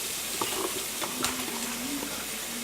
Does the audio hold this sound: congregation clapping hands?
no